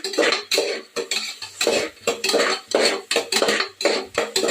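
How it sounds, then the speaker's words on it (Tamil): Clattering utensil scrapes and taps against a metal pan in a quick irregular rhythm, with a soft sizzle of tomato sautéing underneath, close and moderately loud. "ஒரே ஒரு தக்காளி சேர்த்துக்கோங்க, டேஸ்ட்டுக்காக. நல்லா சாட்டே பண்ணுங்க."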